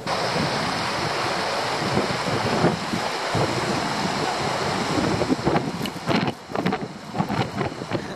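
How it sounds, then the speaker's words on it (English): Steady broadband rushing water roars throughout from the Changbai Mountains waterfall at some distance, with gusts of wind buffeting the microphone toward the end. "in the background, up there, is the Changbai Mountains waterfall"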